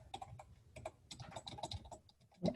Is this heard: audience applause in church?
no